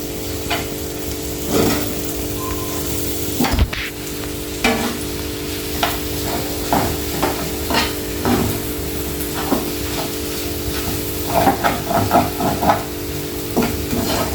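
Onion egg curry fries in oil with a constant close sizzle while a spatula stirs and knocks against the pan in irregular scrapes and taps, over a steady low hum, with no talking.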